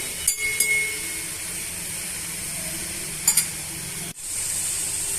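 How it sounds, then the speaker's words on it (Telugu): Onions and green chillies frying in a pan, a steady soft sizzle with a few brief clinks and taps of a spoon, no talking. "ఉల్లిపాయలు వేగిపోయాయండి."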